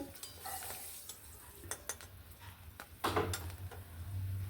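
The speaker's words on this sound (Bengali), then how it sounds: "তেলেতে একটুখানি কাঁচা লঙ্কা ফোড়ন দিয়ে দিলাম" Green chilies temper in hot oil in a pan, a close, quiet bubbling sizzle punctuated by sharp spatula clicks and scrapes against the metal, with a brief louder burst of frying partway through.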